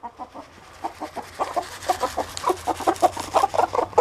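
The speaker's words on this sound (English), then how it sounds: "Come on, chickens." Chickens clucking in a flock in a chicken yard, short repeated clucks growing busier and louder as they are called for wheat and corn scratch, close by with a low background hum.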